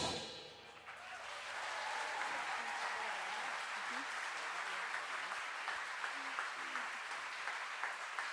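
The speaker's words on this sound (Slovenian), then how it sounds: "Hvala lepa za aplavz." Audience applause after a song at the Glas življenja 2015 concert, a broad sustained crowd clapping that swells in after a soft start and continues evenly to the end, with a faint voice or tone underneath.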